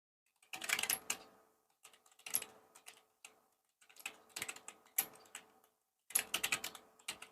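Bursts of computer keyboard typing while entering text in a design program, several quick clicking runs separated by short pauses, close and fairly quiet.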